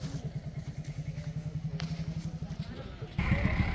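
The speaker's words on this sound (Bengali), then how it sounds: "আমার পিক আপ চলে আসছে" A pickup truck engine runs close by with a steady pulsing chug, then grows louder and rougher near the end as the vehicle pulls up, with faint background clatter.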